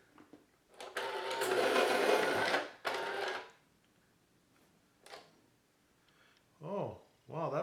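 An AFMAT PSC4 electric pencil sharpener grinding a blunt pencil with a loud, close motor whir lasting about three seconds. A quieter burst follows, then a person speaks.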